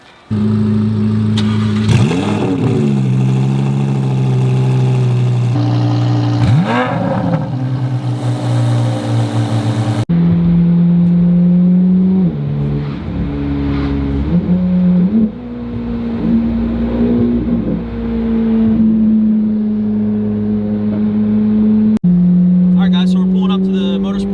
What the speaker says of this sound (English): Drop off his C8, Z06. Got Eric behind me in the Audi R8